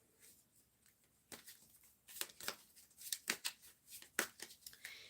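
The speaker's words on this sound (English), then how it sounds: "So let me shuffle." Fairy cards are shuffled by hand in short crisp bursts of riffling and snapping, quiet at first, then a run of sharper close-up flicks.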